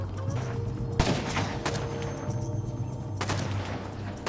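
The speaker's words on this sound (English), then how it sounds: "The raiders here are shooting down at what I believe is a couple of members of another clan" Video game raiders firing guns, with a sharp loud shot followed by bursts of rapid gunfire and echoing reports over a steady low rumble, intermittent and fairly close.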